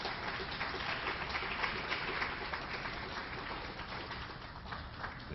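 A lecture audience at a Cornell law talk applauds for the guest speaker, a faint, even wash of many hands clapping heard from a distance, sustained and without voices.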